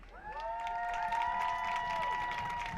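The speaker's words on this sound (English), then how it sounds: "we have the 2nd grade cheerleaders cheering on the Mason Comets football team" Second grade cheerleaders cheer for the Mason Comets at a youth football game in the Grimes Bowl, their sustained high chanted voices carrying over crowd noise throughout.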